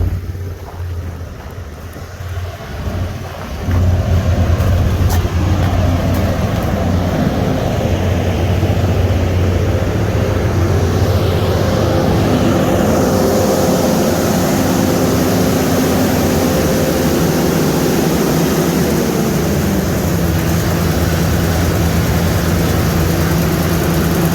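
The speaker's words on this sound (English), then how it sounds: "Gonna go and idle down our generator here." A generator engine drones loudly and continuously near at hand, its low hum shifting in pitch as it settles toward idle, with no one speaking.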